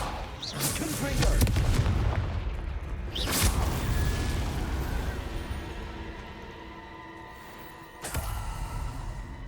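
A Confringo spell in the Hogwarts Legacy video game erupts in several booming blasts, each burst flaring sharply and then decaying into a rumbling tail over steady background game noise.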